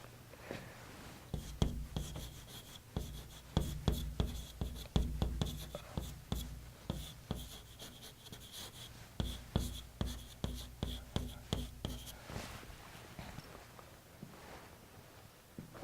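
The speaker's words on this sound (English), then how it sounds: "I'll write that down." Pen writing by hand on paper, close scratchy strokes in quick irregular bursts, a few short pauses between lines, no talking.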